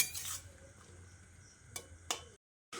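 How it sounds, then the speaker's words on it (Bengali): Ridge gourd and potato with salt and green chillies stirred in a pan, giving a few faint metallic scrapes and clinks of the spoon over a quiet sizzle before a brief pause. "এবার নুন আর কাঁচা লঙ্কাটা দিয়ে আবারও একবার ভালো করে নেড়ে চেড়ে মিশিয়ে নিচ্ছি"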